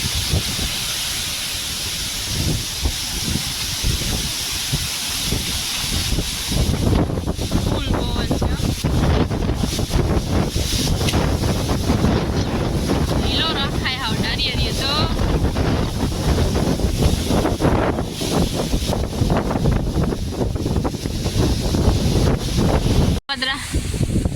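Strong storm wind in a village buffets the microphone with a continuous loud roar and hiss, rising and gusting throughout, with voices talking faintly beneath it.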